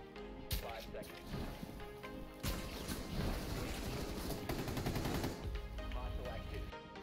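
Rapid bursts of gunfire from Rainbow Six Siege gameplay, dense and loud through most of the stretch, with crashing impacts mixed in and players talking over the shooting.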